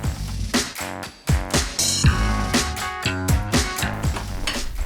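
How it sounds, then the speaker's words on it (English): Metal tongs lift baked meatballs one at a time from a baking pan, producing a quick series of close clinks, scrapes and clatters against the metal. "I'll pull them out one at a time using the tongs"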